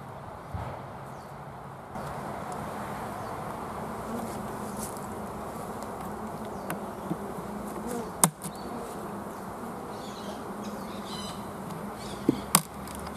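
Honey bees hum at an open beehive, a faint, continuous buzzing drone with a few sharp clicks and knocks from hive handling, heard close and without talk.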